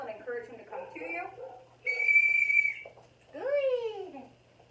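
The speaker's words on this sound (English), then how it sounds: "So you're going to blow the whistle and encourage him to come to you." A single sharp, steady whistle blast sounds between bursts of nearby talking, followed by a high, excited voice.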